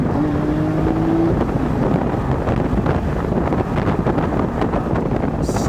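A 2015 Lamborghini Aventador Roadster with its V12 engine drives top-down under a bridge, giving a loud, continuous engine roar mixed with heavy wind buffeting. A brief rising tone sounds at the start.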